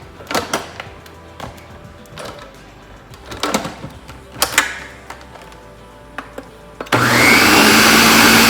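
A few soft kitchen clatters and knocks come first, then an electric mixer starts abruptly and runs loud and steady, whirring through a blend of milks and vanilla for tres leches cake.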